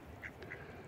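Ducks quack outdoors on a mild day at about 7 degrees. Two or three brief, faint nasal calls sit over a steady background rumble.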